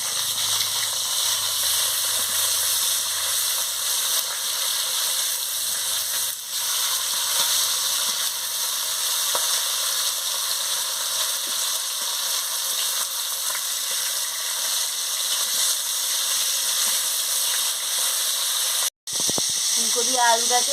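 Katla fish frying in hot oil in a kadai after being flipped, a steady broad sizzle and hiss running nearly unbroken for about twenty seconds, with a brief cut near the end.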